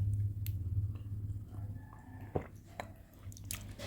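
Soaked tamarind pulp is chewed up close, with wet, squishy mouth sounds and a brief sharper crunch midway, faint and without talking.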